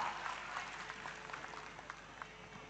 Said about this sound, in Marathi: आपल्या सगळ्यांच्या जोरदार टाळ्या नक्कीच व्हायला हव्या अद्वैत करता.